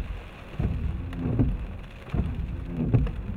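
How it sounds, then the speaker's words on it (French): Large hailstones pound down in a heavy storm, a dense, steady clatter of impacts swelling in waves, loud and close, with no voices. "Oh là, les grêlons."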